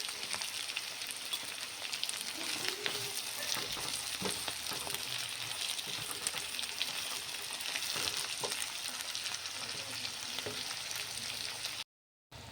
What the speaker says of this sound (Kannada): ನೋಡಿ ಒಗ್ಗರಣೆ ಈ ಥರ ನೀಟಾಗಿ ಬೇಯಬೇಕು.